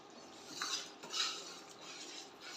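A spoon stirs and scrapes flour roasting in a pan for panjiri, making soft metallic scraping and clinking strokes close by, quiet and irregular, with no talking.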